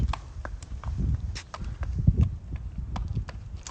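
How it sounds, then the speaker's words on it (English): Foals and mares being led out of a barn, their hooves clopping irregularly on the ground at close range amid low rumbling background noise. "Notice as these guys come out, we're focusing on leading the foals rather than the mares."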